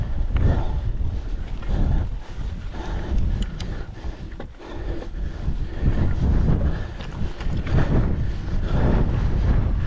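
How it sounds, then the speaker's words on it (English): Steady, gusting wind buffeting the microphone on a mountain bike ride in the Lake District fells around Wetherlam and Parkamoor, a low continuous roar that swells and eases with no talking. "Need to try and get out of this wind"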